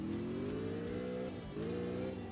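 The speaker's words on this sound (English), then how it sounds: "It's actually pretty good drifting" A car drifting in CarX Drift Racing Online, its engine droning at high revs with a rising whine, dipping briefly as the throttle lifts and then climbing again, loud and close, with no voices.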